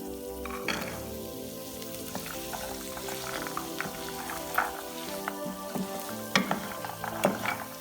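Minced meat with freshly added peas fries in a pan for matar qeema, a close, steady crackling sizzle with scattered pops and light stirring clicks.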